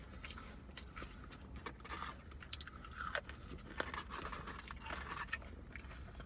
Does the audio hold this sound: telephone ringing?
no